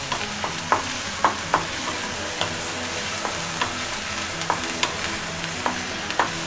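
Ginger garlic paste and green chilies frying in hot oil for restaurant-style chilli chicken, with a steady close sizzle and repeated sharp stirring clicks of a spoon against the pan, no talking.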